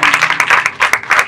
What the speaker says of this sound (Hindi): जोरदार तालियां हमारे खुदावंद के जलाल के लिए।